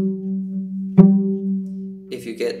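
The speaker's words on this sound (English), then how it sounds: "instead of a pure ringing sound like this" A cello sustains a steady, clean ringing note with a firm bow accent partway through. A voice starts speaking near the end.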